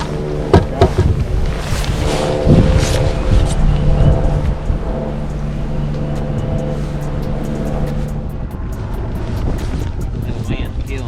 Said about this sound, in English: That wind's killing me.